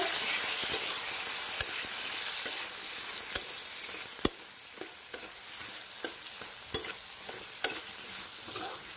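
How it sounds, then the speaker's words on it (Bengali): Eggplant slices fry in a pan over a low flame with a steady, loud sizzle, broken by sharp clicks and taps as a spatula stirs and turns them. "ফ্লেমটা লো করে আমি বেগুনগুলোকে একটা একটা করে এর মধ্যে দিয়ে দেব ভাজতে।"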